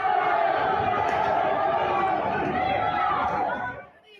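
A protest crowd of more than a thousand surges through an Australian street toward State Parliament, a dense mass of shouting and chanting voices held loud and close before it fades out at the end.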